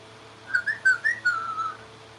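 Cheerful whistled trills imitate a happy little bird, a run of about six short rising and falling notes that blend into a warbling phrase, moderately close and clear over a faint low hum.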